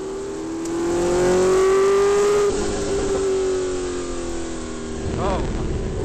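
A 1971 Porsche 908/3 race car drives a practice session for FIA cars on grooved treaded tyres, its engine a loud sustained drone that rises and shifts pitch as it accelerates, heard from onboard with steady roar throughout.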